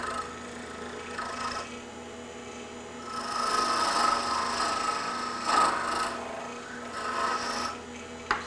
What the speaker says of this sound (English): Let's go ahead and shave this down.